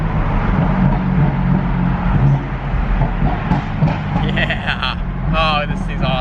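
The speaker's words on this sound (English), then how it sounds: "Now we gotta do our casual tunnel pass" A 600hp BMW F82 M4 accelerating through a tunnel, its engine droning low and loud, then rising in pitch toward the end as the revs climb, with voices over it.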